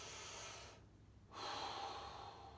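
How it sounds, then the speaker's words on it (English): Slow diaphragmatic breathing demonstrated up close, a soft airy inhale, a brief pause, then a fuller exhale, quiet and unaccompanied by speech. "Just breathing like that"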